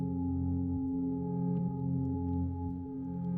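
Music processed through a Valhalla VintageVerb reverb at its default setting, with saturation, sustains as steady, dense tones and a smooth wash that runs continuously at an even level throughout.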